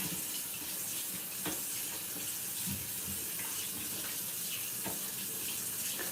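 Tap water runs steadily into a kitchen sink while items are rinsed off during home cooking of a Japanese katsudon pork cutlet rice bowl, a continuous broadband splashing wash with a few brief clatters, fairly close and alone.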